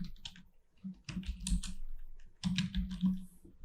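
Typing on a computer keyboard, close and clear, in two bursts of rapid clicks separated by short pauses, with no talk.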